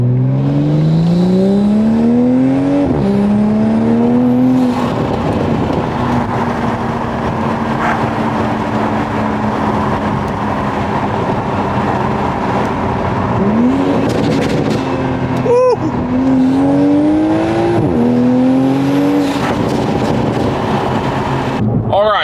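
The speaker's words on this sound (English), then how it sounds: "This exhaust has made a massive difference in the volume and tone of this B58 motor." A Toyota Supra's B58 engine revs hard through several rising gear pulls, its loud aftermarket exhaust roaring and popping between shifts, heard close up from inside the vehicle.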